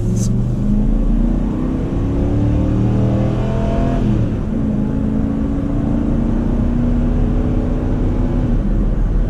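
A 2005 Ford F-150 king cab 2WD with the 5.4 Triton 3V V8 accelerates at about three-quarter throttle, its engine droning loud inside the cab as the revs climb through a gear change and keep pulling.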